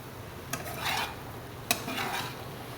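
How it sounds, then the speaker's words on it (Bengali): Paneer is stirred and sautéed in a pan, two sharp scrapes of a spatula each followed by a short rasping swish, close and fairly quiet with no talk. "তো এইভাবে এটাকে একটু কষা কষা করে নেবো,"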